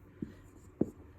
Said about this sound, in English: let's go ahead and write number 1 on our board